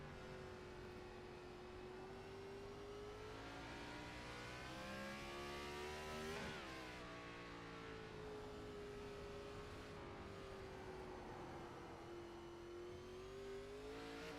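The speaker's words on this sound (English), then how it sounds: "You heard the tires squealing on the 8 car." An iRacing race car at Sonoma Raceway, heard from on board, its engine droning steadily and shifting pitch through the corners, with a rising whine and a brief squeal of the 8 car's tires, loud and continuous throughout.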